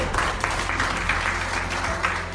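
A church congregation claps together in a dense, steady burst of applause offered to God, close and fairly loud, sustained without pause and with no speech over it.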